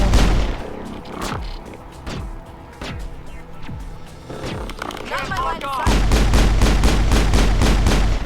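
Repeated gunfire in the Mass Effect video game, sharp shots in bursts with a heavier, denser volley near the end, mixed with game effects and voices talking over it.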